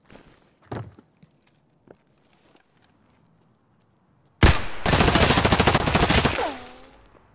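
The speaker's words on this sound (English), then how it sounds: "I hit him three out of the seven shots I hit" Rapid burst of gunfire in the Escape from Tarkov shooter game, a loud sustained volley of about three seconds after a few faint isolated thuds and footsteps, fading out with a ringing tail.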